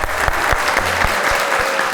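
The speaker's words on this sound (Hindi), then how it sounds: "तालियां" Studio audience applause on a talk show, a dense burst of many hands clapping, close and loud, steady across the short span with a few sharper claps standing out.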